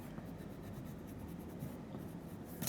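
Coloured pencil shading on paper with orange over brown and blue layers while drawing a leaf, a steady close scratchy rubbing that runs continuously and alone, swelling slightly louder at the very end.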